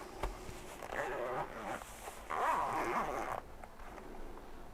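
The zipper on a multimeter carrying bag is drawn open in a few short close rasping pulls, with faint handling around them.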